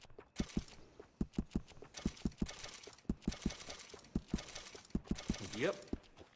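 Horse hooves clop in Red Dead Redemption 2 as a groomed horse moves: a steady series of sharp, evenly spaced hoof strikes, close and fairly clear, with a brief rising whinny-like tone near the end.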